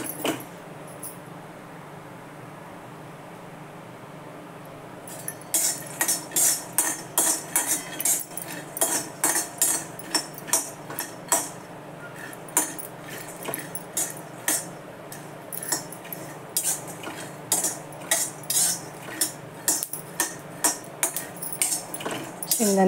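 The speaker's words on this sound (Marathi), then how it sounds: "शेंगदाणे आधी भाजून घेते चांगले." Peanuts dry-roast in a pan for chilli thecha, stirred with a utensil that makes rapid, regular clinks and scrapes against the metal after a quiet start, close and crisp over a faint background hum.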